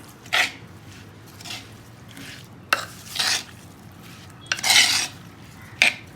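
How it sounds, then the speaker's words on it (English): Raw prawns being stirred and mixed with coconut oil in a kitchen bowl, giving a few scattered bursts of scraping and clinking, fairly close, with quiet gaps in between and no talking. "Mix them well till the coconut oil gets marinated well"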